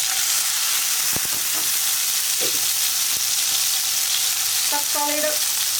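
Chopped tomatoes hit hot coconut oil with popping mustard seeds, setting off a steady, loud frying sizzle with a few sharp crackles and brief clinks, no voices.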